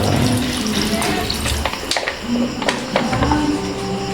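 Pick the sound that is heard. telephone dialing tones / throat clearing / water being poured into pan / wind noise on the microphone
water being poured into pan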